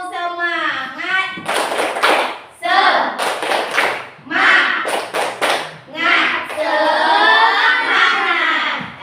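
Children in a classroom performing a rhythmic clapping chant, bursts of claps alternating with sung and chanted voices in a loud, patterned sequence.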